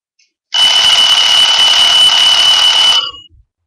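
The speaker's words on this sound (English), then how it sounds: "So that is just a Bieber alarm clock." A Justin Bieber alarm clock rings very loudly, a harsh, steady electronic buzz-tone that starts abruptly, holds for about two and a half seconds, then cuts off, with no talking.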